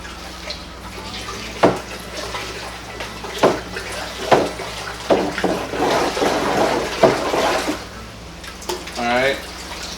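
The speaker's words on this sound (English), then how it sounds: "And I'm going to go ahead and give this a stir." A sugar wash mash being stirred, heard as a series of wet sloshes and splashes in a bucket, irregular and fairly close, separated by short quiet gaps.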